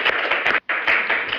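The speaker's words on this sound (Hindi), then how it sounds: "इनके लिए एक ताली होनी चाहिए मेरी तरफ से" An audience claps for a guest at an interview event, with steady close applause broken by one brief pause before resuming.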